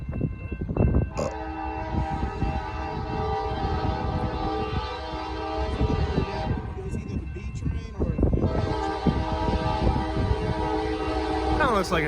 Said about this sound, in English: Kind of looks like an ethanol train, or it could be a G train.